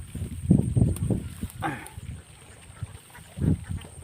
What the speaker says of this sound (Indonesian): Ada bebek saya guys ya.